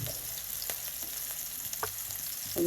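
Pomfret fish fries in oil on a tawa, giving off a steady close sizzle with a few small pops and crackles across a couple of seconds.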